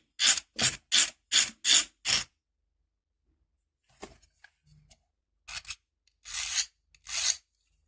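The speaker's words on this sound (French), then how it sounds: "Petit coup de lime" A hand file rasps along the edge of a piece of glass fused in a microwave kiln, six quick, evenly spaced strokes close up, then a pause and a few scattered scrapes and longer strokes.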